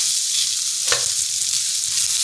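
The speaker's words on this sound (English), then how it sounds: "We do have sizzling action going on here." Bell peppers sizzle steadily in a hot glass pan, a continuous hiss of frying with one brief clink partway through.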